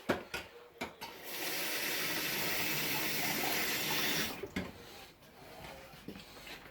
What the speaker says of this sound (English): Basically all I do is I drop hot water in that